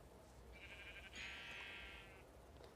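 A sheep in a video game gives a single drawn-out bleat that wavers for about a second and a half. It sounds faint and quiet over a low background hum.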